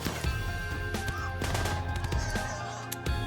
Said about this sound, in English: Machine pistols, dude.